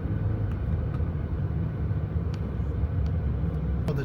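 A car drives through the small town center of Cowra, New South Wales, with a steady low engine and road rumble heard from inside and no voices.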